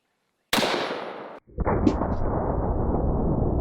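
A shotgun fires shotgun shells outdoors in one loud, sharp blast, then a second close report that rings out with a long sustained roar and echo.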